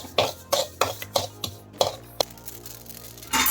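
Sharp crackling pops of mustard seeds spluttering in a hot pan, irregular and fairly close, with a short burst of sizzle near the end.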